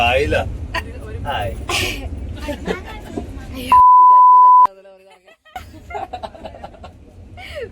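A single steady censor beep holds for just under a second, cutting sharply into chatter and laughter during a train journey, then quiet talk resumes.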